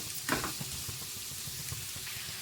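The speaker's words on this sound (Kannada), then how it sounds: "ಮೂಲಂಗಿ ಚೆನ್ನಾಗಿ ಬಾಡಿಸ್ಕೊಳ್ಬೇಕಾಗುತ್ತೆ ಹೈ ಫ್ಲೇಮೇ ಇಟ್ಕೊಳ್ಳಿ ಇವಾಗ ಚೆನ್ನಾಗಿ ಬಾಡಬೇಕು" Sliced radish sautéing in oil over a high flame gives a steady, close crackling sizzle with a few stirring clatters, constant and fairly loud with no talking.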